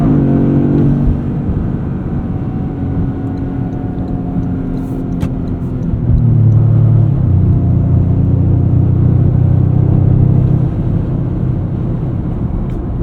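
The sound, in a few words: Toyota GR Corolla engine bouncing off the rev limiter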